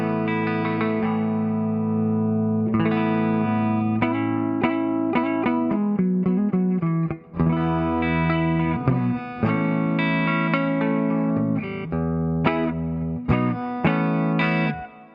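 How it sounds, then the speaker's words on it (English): Electric guitar through a clean, transparent compressor in the AmpApps ToneStack PRO app, playing a continuous, evenly sustained run of chords and single notes with a smooth, level attack and no pauses. "This is a real clean, transparent compressor here."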